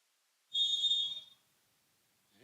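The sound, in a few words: referee whistle before a volleyball serve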